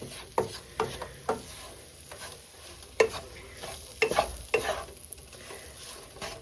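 Flour stirred into sausage drippings in a pan, with a soft sizzle under repeated scraping stirs in an uneven rhythm, close and fairly quiet with no talking.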